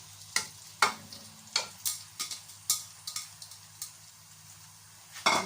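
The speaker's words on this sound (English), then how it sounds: "So here we put in our onion." Chopped onion goes into a hot pan on the fire and sizzles quietly, with a series of sharp scraping and tapping knocks from stirring at an uneven rhythm; no one speaks.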